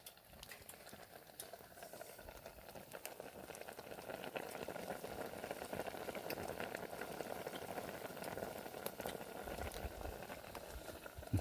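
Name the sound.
pot of water starting to boil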